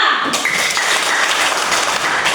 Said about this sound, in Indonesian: Kita berikan tepuk tangan buat kelompok 2